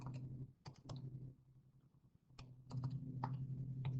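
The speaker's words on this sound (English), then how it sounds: "Again, we're just typing it all in the calculator." Calculator keys tapped in quick bursts while working a geometry distance problem, a cluster of sharp clicks at the start, a pause, then several more taps, close up over a steady low hum.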